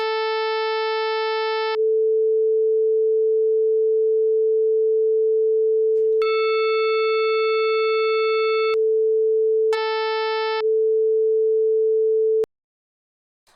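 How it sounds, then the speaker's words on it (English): A sawtooth wave produced in Pure Data buzzes as a loud continuous tone whose brightness switches several times over about twelve seconds before cutting off abruptly into silence. "Sawtooth."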